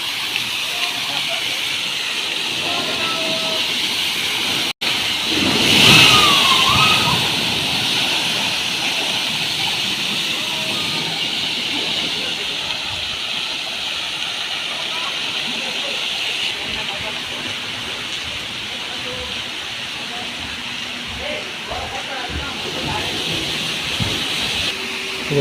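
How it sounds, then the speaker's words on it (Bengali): Water pouring down steadily at a water park bathing area, a continuous broad rushing splash heard at moderate distance, with voices talking over it throughout. "এই দেখো কত সুন্দর করে পড়তেছে জল"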